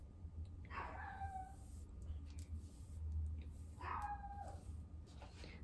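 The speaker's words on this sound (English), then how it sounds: "Sorry if you hear the dogs barking outside." Dogs bark outside, heard faintly through walls as two short, distant yelping bursts a few seconds apart over a low indoor hum.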